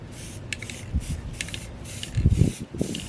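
Short bursts of an aerosol spray can coat a Nissan car part after sandblasting, several hissing pulses in a quick on-off rhythm, close and fairly quiet, with light handling noises between.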